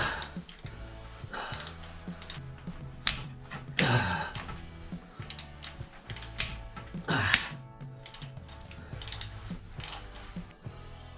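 A ratchet wrench clicks in bursts while loosening the flywheel bolts on a Triumph TR7 in a garage, with irregular ratcheting and metallic clanks up close and no talking.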